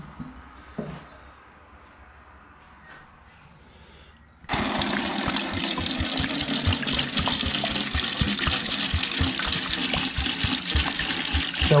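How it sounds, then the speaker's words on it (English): Homemade whiskey gushes steadily through a sieve into a bucket fitted with a tap, a loud continuous liquid rush that starts abruptly after a few seconds of near-quiet and keeps pouring to the end. "we'll sieve that again and put it into the bucket with the tap on it"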